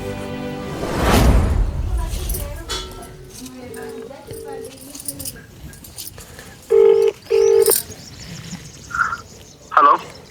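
A mobile phone dials out, a few short electronic tones and beeps in quick succession heard close after a burst of indoor speech, with brief clinks around them.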